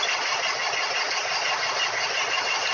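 A heavy-equipment diesel engine runs steadily at high RPM during a unit inspection, a loud, continuous broadband roar with no pauses and no talking.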